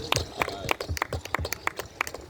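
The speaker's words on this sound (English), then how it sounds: "Clap it up for the sister." Several people in a small gathering clap for a woman, with quick uneven claps that form a loose, close-up rhythm lasting a couple of seconds.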